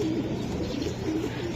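Racer pigeons cooing, low throaty rolling coos repeating close by over steady background noise.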